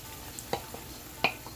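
Tomatoes going into a pan of caramelized onions, heard as faint soft frying with a few light scrapes and taps from stirring, quiet and close with no talking.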